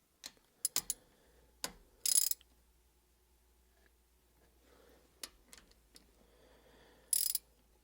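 Ratchet clicking in short bursts while snugging the short shifter bolts on an NA Miata roadster, a few quick close clicks separated by pauses.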